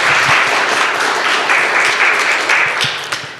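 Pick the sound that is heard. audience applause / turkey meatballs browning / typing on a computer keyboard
audience applause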